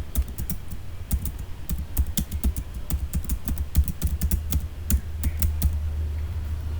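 Fingers type on a computer keyboard, a close run of rapid, irregular key clicks with brief pauses between bursts and no voices.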